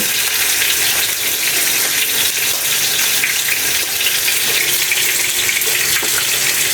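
Tomatoes sautéing in a pan for breakfast, a loud, unbroken hissing sizzle heard close up, steady from start to finish.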